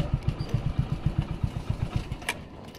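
Motorcycle pulled to the roadside near a hospital, its engine idling with a rapid, even thumping beat up close, then cutting out and leaving quiet background.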